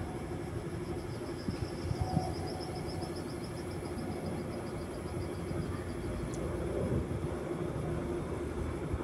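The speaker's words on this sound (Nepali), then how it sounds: "हाम्रो प्लेन चाहिँ अब धवन मार्गमा आउँदैछ र स्पिड पनि लिइसकेको छ।" A passenger airliner accelerating down the runway at Kathmandu on a flight to Riyadh, heard from inside the cabin as a steady, deep engine roar that swells slightly toward the end.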